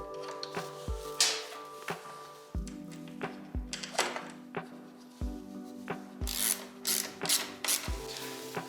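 Two bolts being tightened on a brake caliper, with rhythmic ratcheting clicks and metallic rubbing, close and fairly quiet, and no talking.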